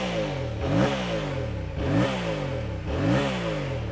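Twin-cylinder CP2 engine of a Yamaha R7 motorcycle (2022) revving three times in a steady rhythm, each blip rising sharply then falling back to idle, loud and close with no talking.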